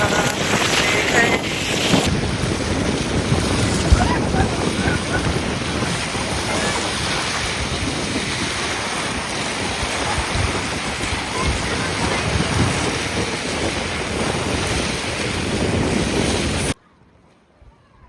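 Strong sea wind at Al Mugheirah near Abu Dhabi roars loudly and steadily against the microphone, with waves and surf rushing beneath it, then cuts off abruptly near the end.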